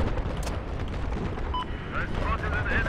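Gunfire from the Battlefield 4 video game on the Hainan Resort map, heard as a dense, continuous rumble of distant shots and explosions with faint interface tones layered on top.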